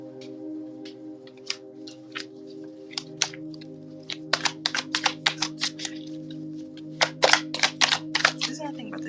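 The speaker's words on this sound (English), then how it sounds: "As I shuffle these cards." Tarot cards being shuffled, with a run of sharp crisp riffling clicks and snaps in bursts, some close and fairly loud, over a steady low hum.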